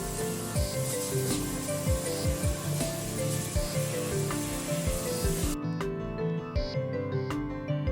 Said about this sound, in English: when I bought this power washer, I went to Home Depot and I bought the most powerful medium range one